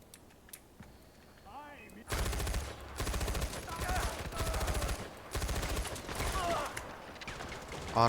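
Loud, rapid bursts of automatic gunfire fill most of the stretch in the video game Far Cry 4, dense and continuous with brief gaps, after a quieter opening; someone talks over the shooting.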